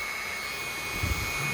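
A drill bores through a labradorite cabochon, giving a steady, continuous whine with a low rumble beneath it and a slight change in tone near the end, with no voices.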